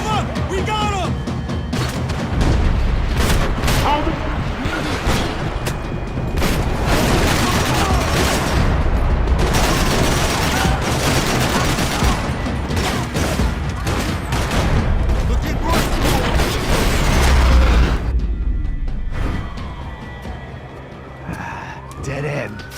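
Sustained gunfire in the Max Payne 3 video game, dense bursts of shots running through most of the stretch over a rumbling soundtrack, with shouting voices mixed in before the noise eases near the end.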